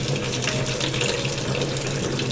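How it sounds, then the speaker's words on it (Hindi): A newly bought household washing machine fills with water, a steady continuous gush of running water, close and unbroken throughout. "ये लो चल रही है हमारी वॉशिंग मशीन।"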